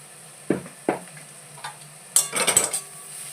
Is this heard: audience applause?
no